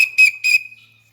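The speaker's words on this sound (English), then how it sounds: "the instructor would blow the whistle 3 times" An instructor at an archery range blows a shrill whistle in three short blasts, loud and close, the last one trailing off into silence.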